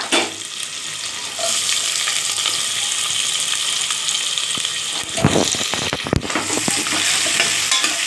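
Onion sautés in oil in a pan with a loud, constant sizzle and hiss, close up, joined near the end by a burst of stirring and spatula scraping, with no voices.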